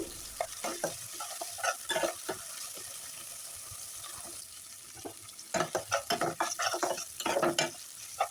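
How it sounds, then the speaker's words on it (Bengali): Onion, garlic and cumin paste stirred and fried in a pan, with a steady sizzle and repeated scraping strokes of a spoon, clustered into bursts of stirring, close up and with no voices. "সব মশলাটা আমি ভালো মতো নেড়ে ছেড়ে আর কিছুক্ষণ কষিয়ে নেব আমি"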